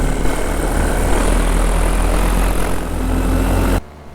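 Paramotor engine and propeller droning steadily in flight over countryside, a loud continuous hum and buzz for nearly four seconds before cutting off abruptly into near silence.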